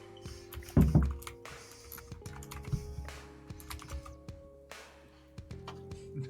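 Typing on a computer keyboard during an online Blood on the Clocktower game, with soft irregular key clicks and taps close by, some louder thumps early on, under quiet background sounds and no talk.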